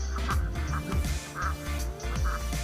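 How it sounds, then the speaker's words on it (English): Ducks on a farm quack in short repeated bursts at close range, with several calls overlapping over a few seconds against quiet background noise. "Whiskers, don't be scaring those ducks."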